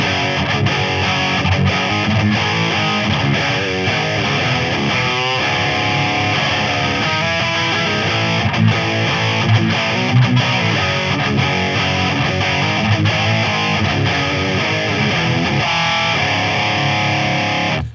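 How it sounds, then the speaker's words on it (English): Electric guitar played through a Boss DS-1x distortion pedal, a loud, dense, sustained overdriven tone with chords and riffs ringing continuously for the whole stretch, no voice over it. "the Boss DS-1x here uses the same multi-dimensional processor that the adaptive distortion had"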